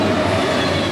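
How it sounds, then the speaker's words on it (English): A train rolls loudly along the tracks close by, a dense continuous rumble of wheels and cars with no voices. "they don't come by as often as they used to, trains do still rumble past Butler's place"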